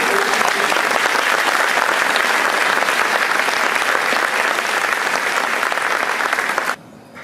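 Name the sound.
audience applause after band concert finale, 1812 Overture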